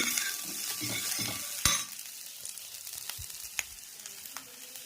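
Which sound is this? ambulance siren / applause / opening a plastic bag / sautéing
sautéing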